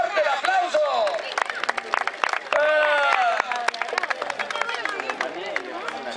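Audience applause and clapping at a criollo rodeo festival in a municipal fairground in General Alvear, Buenos Aires, a crowd clapping steadily and loudly for several seconds alone.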